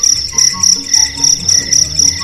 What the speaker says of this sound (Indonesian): Banyak suara jangkrik ya di sini, seru ya.